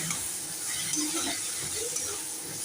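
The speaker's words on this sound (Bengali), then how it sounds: "ডাল ডালটা একটু নাড়া নিয়ে নেবো সঙ্গে সবজির সঙ্গে ডালটা একটু নেড়ে নেব" Lentils (dal) and vegetables stirred in a pan, giving a soft, steady sizzle with scraping stir strokes that stays close and moderate for the whole stretch, with no talking.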